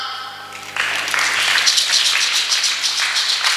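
A congregation in a French-speaking Sunday school gathering bursts into applause: steady, dense clapping from many hands that swells in after a brief lull and keeps going loud and even to the end.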